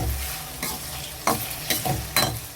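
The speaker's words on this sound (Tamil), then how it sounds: "நல்லா பச்சை வாசனை போகிற அளவுக்கு வெங்காயம் தக்காளி வதக்குறோம்." Onions and tomatoes sautéing in oil for cabbage chutney give a low, steady sizzle, broken by about five brief spoon-stirring scrapes spaced through the pan.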